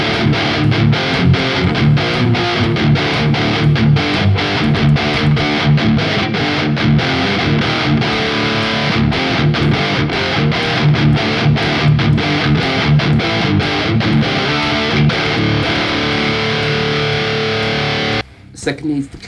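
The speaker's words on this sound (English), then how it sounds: "the first one is the main gain sound, and this is based on a Friedman BE 100" A distorted electric guitar plays a high-gain tone modelled on a Friedman BE 100 through a Mesa Boogie cabinet with a touch of reverb, dense chugging riffs running steadily before stopping abruptly near the end.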